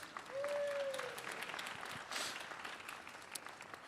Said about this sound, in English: Stand up, give them a round of applause.